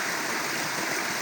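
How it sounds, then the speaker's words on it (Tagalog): Water runs from a rural canal down into a stream at a planned swimming-pool site in the Philippines, a steady close rush of flowing, splashing water without pause or voices. "Itong babaksakan ng tubig, sapa."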